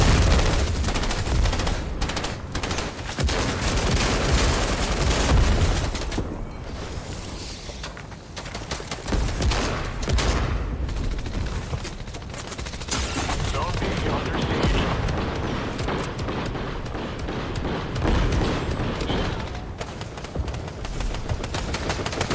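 Dense, continuous explosions and gunfire from a Fortnite match as bombs are thrown, loud and sustained throughout with rapid crackling bursts and a voice talking over the action.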